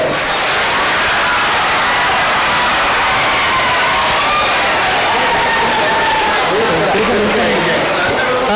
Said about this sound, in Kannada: ಚಪ್ಪಾಳೆ ತಟ್ಟಿ ಎಲ್ಲರಿಗೂ